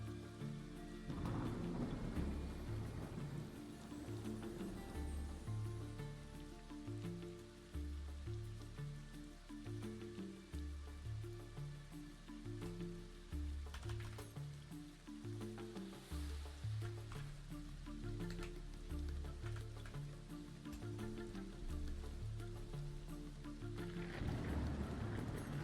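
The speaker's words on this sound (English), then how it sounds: "Love this rain sound. Want to fall asleep to it." Steady rain with rumbling thunder in a fantasy video game, a continuous close downpour with low rolls of thunder running underneath, backed by a soft rhythmic low pulse.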